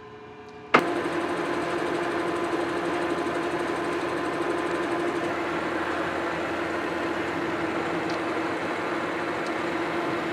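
A metal lathe turns down the reduction gear drive shaft of a large cane mill, starting with a sudden clunk and then running as a steady, loud, unbroken mechanical whir and hiss.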